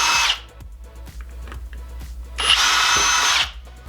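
A power drill spins up briefly, then whines steadily for about a second while boring a pilot hole for a screw hook in a hanging display stand; the drill is close and loud, with no talking.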